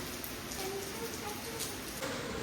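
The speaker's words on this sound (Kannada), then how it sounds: "ಮಳೆ ಜೋರಾಗಿ ಬರ್ತಾ ಇದೆ, ನಿಧಾನಕ್ಕೂ ಅಲ್ಲ ಜೋರಾಗಿ ಬರ್ತದೆ" Steady heavy rain hisses across the whole stretch in Mysore, a dense continuous wash with faint background voices mixed in.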